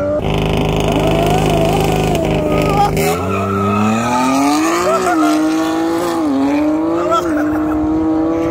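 A turbocharged Jaguar XJ6 accelerates hard, its engine note climbing and wavering loudly and continuously, close by, with a rising whine and tire noise and no speech.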